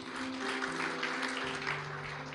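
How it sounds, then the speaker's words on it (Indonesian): A congregation at a Pentecost church service claps along, with a crowded patter of hands under sustained, steady musical tones from the worship band or keyboard. "Yang percaya boleh kasih tepuk tangan buat Tuhan kita."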